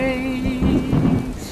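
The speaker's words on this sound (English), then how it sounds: "And now let's test this rain system." A homemade indoor rain system for a pet enclosure runs as a steady, close hiss of falling water and droplets, with a sustained musical tone running beneath it.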